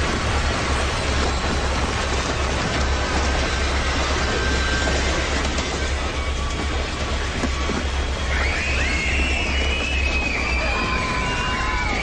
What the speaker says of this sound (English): It's just a train. It doesn't happen that much,